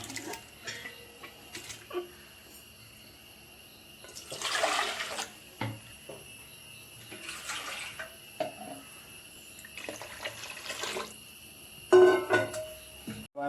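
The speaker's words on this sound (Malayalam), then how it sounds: "നമുക്കത് ഒരു പാത്രത്തിലേക്ക് ഒഴിച്ചിട്ട് വേവിക്കാൻ വയ്ക്കാം" Soaked broken wheat and its water poured from one vessel into a cooking pot, heard as several bursts of splashing pouring separated by quiet pauses and small clinks, fairly close, with no speech.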